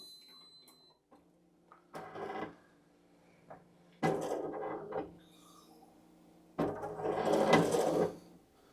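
A BAI V-22 embroidery machine traces a design on a structured hat, with several bursts of whirring, clattering mechanical movement separated by quiet pauses, close by.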